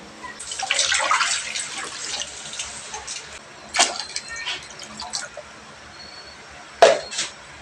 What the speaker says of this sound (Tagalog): Magbutang lang taog tubig